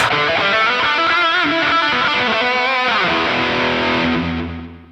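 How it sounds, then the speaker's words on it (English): A distorted electric guitar through a Line 6 Helix lead preset plays a sustained, heavily driven lead phrase, loud and saturated, then rings out and fades. "and lead."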